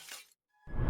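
Glass shattering in a short, sharp crash, a brief silence, then a second louder burst of breaking and debris, close and with no talk.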